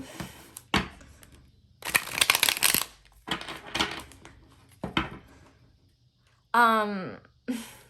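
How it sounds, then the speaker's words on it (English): Tarot cards being shuffled by hand, heard as several bursts of crisp riffling and flicking at close range, separated by short pauses, with brief bits of voice in between. "I'll give this a couple good shuffles."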